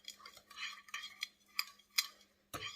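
A spoon handle stirs sugar and cinnamon together in a bowl, giving a run of soft scraping and light clinking strokes, close and fairly quiet, ending in a sharper knock.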